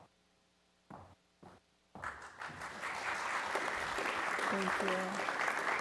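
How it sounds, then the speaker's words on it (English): Applause breaks out for a speaker at a Thousand Oaks city council meeting. It follows a couple of short thumps and a brief spoken thanks, then swells into steady, sustained clapping from the chamber audience. "They actually applauded for you."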